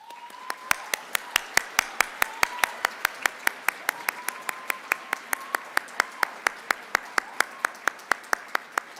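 Sparse, evenly spaced hand claps sound at a graduate pre-commencement celebration, a few audience members clapping in a slow steady rhythm rather than a full crowd, fairly crisp over quiet room tone.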